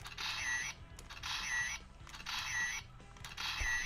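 A toy camera's small plastic shutter switch clicks and whirs in four evenly spaced bursts, close up, with a faint ratcheting mechanism under each press.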